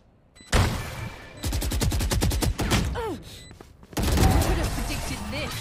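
Gunfire in the video game Valorant: rapid automatic bursts with a dense rattle of shots, a brief lull, then another heavy volley, loud and close, with a voice briefly over it.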